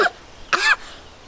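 Two short coughs from a person, a brief one at the start and a louder, harsher one just after, close and alone in a quiet room.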